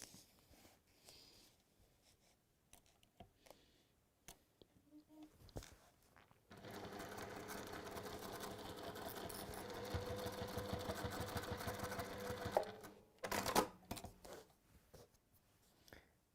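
A sewing machine runs steadily for about six seconds while a gusset is stitched into a textile piece, with quieter handling noises and brief talk before and after the stitching.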